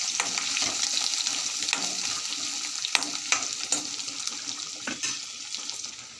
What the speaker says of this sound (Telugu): ఇప్పుడు కడిగి పెట్టుకున్న రొయ్యలు వేస్తున్నాను